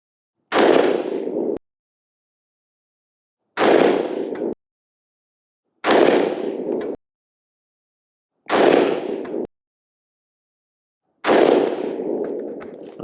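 Five sharp, loud rifle shots firing Sierra MatchKing 69 grain bullets ring out alone, each followed by a brief decaying echo and spaced roughly two to three seconds apart against silence.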